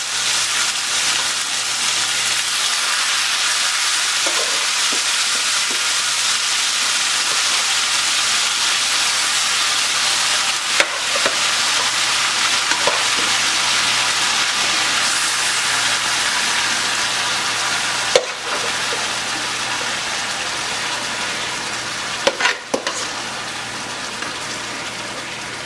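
Beef for Spanish-style stew, carne guisada, hisses and sizzles steadily in a hot pot, a loud continuous fry broken by a few sharp clanks of stirring against the pot.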